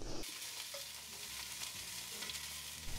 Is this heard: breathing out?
no